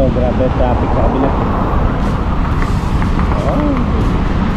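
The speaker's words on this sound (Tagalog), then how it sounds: "Grabe oh, grabe traffic sa kabila." Heavy, backed-up road traffic near Calaca, a dense, steady rumble of car and truck engines heard close from within a vehicle, with voices talking over the noise.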